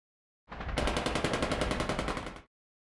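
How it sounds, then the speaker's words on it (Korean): Rapid automatic gunfire from the mobile shooter game Goddess of Victory: NIKKE, one loud sustained burst of about two seconds with an evenly spaced rattle of shots, starting and stopping abruptly with no talk over it. "총성."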